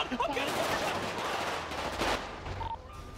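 Rapid gunfire erupts in a GTA NoPixel roleplay shootout at Merryweather Docks, with dense overlapping bursts of shots that stay loud and continuous throughout, easing slightly near the end.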